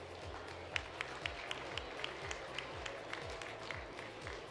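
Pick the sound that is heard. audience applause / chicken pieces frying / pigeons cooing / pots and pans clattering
audience applause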